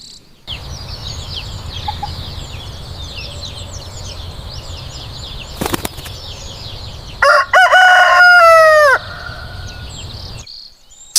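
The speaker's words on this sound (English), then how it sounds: "This is a chicken." A rooster crows loudly with a rising, stretched call near the end, over steady background bird chatter and a brief click midway; no talking.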